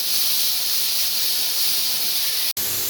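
A quarter kilo of large onions fries in hot oil for tomato chutney, giving a constant, dense sizzling hiss close up that cuts out for an instant near the end.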